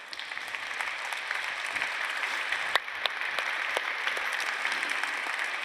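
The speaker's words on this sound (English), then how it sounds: "could you just raise your hand so we can just give you a quick round of applause" Applause for project leaders at a closing ceremony: a steady wash of many hands clapping from a crowd, even and sustained, heard from a little distance with no voices on top.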